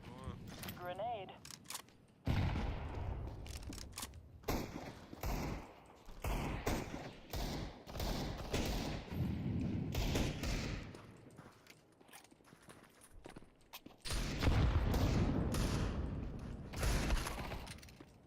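Gunfire in a team video game: sharp shots and quick bursts crack in irregular clusters, some rapid, interrupted by gaps, with players talking over and between the shooting.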